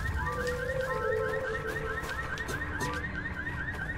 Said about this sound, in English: Where's the damn alarm switch?